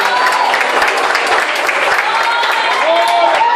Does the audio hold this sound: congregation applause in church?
yes